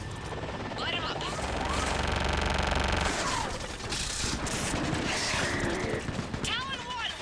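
In Mass Effect 3 on Thessia, a gunship's weapons fire on ground targets with loud sustained bursts and heavy impacts, while machinery whines and whirs through the fight. Radio voices talk over the combat.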